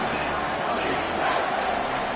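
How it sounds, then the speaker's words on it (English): A college football stadium crowd roars on third down as fans rally behind the defense, a dense, steady wall of sound from many voices with no break across the moment. "Decibels rising as the crowd gets behind this defense on third down"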